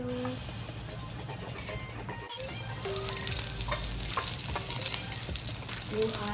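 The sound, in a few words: garlic sautéing in olive oil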